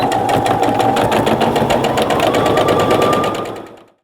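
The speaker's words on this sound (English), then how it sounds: "I'm gonna go ahead and sew my other one before I do that." A sewing machine runs steadily at close range, stitching a French seam on a pillowcase with a fast, even mechanical chatter that slows and stops after about three and a half seconds.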